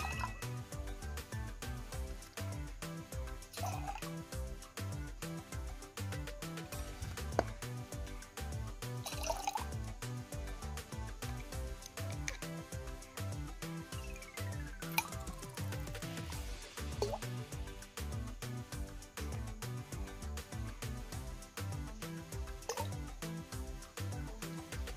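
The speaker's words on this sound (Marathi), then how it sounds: "हे पाणी तांब्यामध्ये काढून घेणार आहे" Water drips from a banana plant into a small metal pot, a soft and regular patter of drops repeating steadily at close range for a long stretch, with occasional louder plinks.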